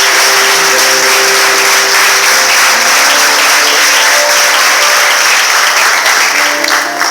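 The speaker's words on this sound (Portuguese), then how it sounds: "Você pode aplaudir o Senhor Jesus por isso?" Sustained applause from a church congregation at an anniversary congress, dense and steady throughout with no break, loud and filling the room.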